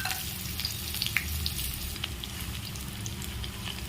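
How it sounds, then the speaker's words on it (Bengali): Onions fry in hot oil for snake gourd posto, a close, continuous sizzle and crackle with faint popping, steady throughout. "তেলে পেঁয়াজ দিয়ে দেবো"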